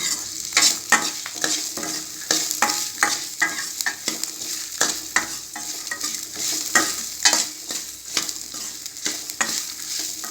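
Bitter gourd stirred and sautéed in a pan for a Tamil tamarind kuzhambu, with repeated scraping strokes of a spoon over a steady sizzle, close and fairly loud throughout with no talking.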